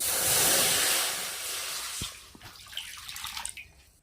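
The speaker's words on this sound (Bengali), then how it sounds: "এবার কড়াইতে দেবো জল" Water poured into a clean wok, a loud rushing hiss up close at first that thins into lighter splashes and drips before trailing off, with no voices.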